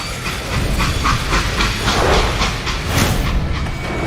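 Loud, continuous steam hissing from a train in the Western shooter game Call of Juarez: Gunslinger, with a rhythmic chugging pulse and faint rail clatter beneath the spray, no voices.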